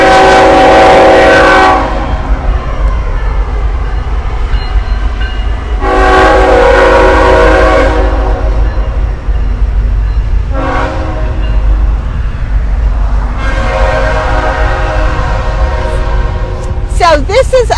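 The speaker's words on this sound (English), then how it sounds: "I think the sound of the train is pretty." A train passes close by with a deep rumble and several long, loud horn blasts, heard near Jefferson, Texas. Rail clatter runs steadily between the blasts, and voices come through faintly in places.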